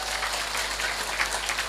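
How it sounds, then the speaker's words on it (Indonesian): An audience applauds steadily at an Islamic religious lecture in Cilongok, Banyumas, a dense wash of clapping that fills the whole short moment without pause. "Tepuk tangan disit kok."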